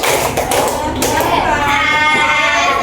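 A class of children clapping a colour-coded clap pattern, loud taps and claps in quick bursts, followed by a sustained ringing tone.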